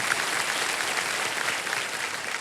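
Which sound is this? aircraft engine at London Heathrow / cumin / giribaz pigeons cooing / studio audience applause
studio audience applause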